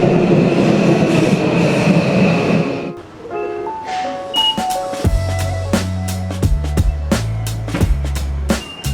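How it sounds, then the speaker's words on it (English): Ride on a Tokyo subway train, running between Asakusa and Marunouchi: a steady rolling rumble at first, then a series of clear electronic tones and chime-like notes over the carriage noise, with no talking. "we just finished our first train ride"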